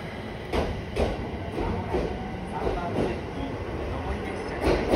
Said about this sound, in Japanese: 上り列車が参ります。